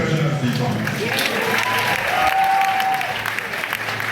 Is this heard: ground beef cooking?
no